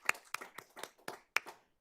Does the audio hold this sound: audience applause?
yes